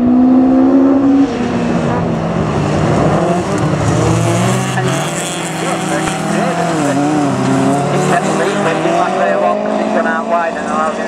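Class 9 race cars, a field of three-wheel-era saloon-style racers on a Yorkshire Dales area circuit during a memorial meeting final, roar loudly and continuously up close, engines revving and shifting with some tyre squeal, under a commentator talking.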